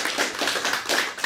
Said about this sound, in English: Applause for all of the poets that we'll be reading tonight, and to our staff, and to you all.